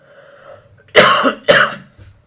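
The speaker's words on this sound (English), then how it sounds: "I cough a lot when I talk too much" Two sharp, loud coughs in quick succession, close up, with quiet breathing before and after.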